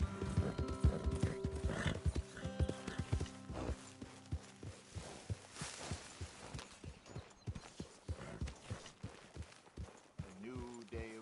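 Horse hooves clip-clop at a steady walking pace in Red Dead Redemption 2, mixed with a neigh and in-game ambience and music, with voices talking over the faint, dense hoofbeats.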